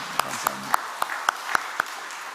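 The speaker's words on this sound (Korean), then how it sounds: "우리 큰 박수로 한번 환영할까요?" In a Sunday church service, a congregation welcomes missionaries with sharp, evenly spaced claps in a quick rhythm of about four per second. A voice is heard briefly at the start, and the clapping thins out toward the end.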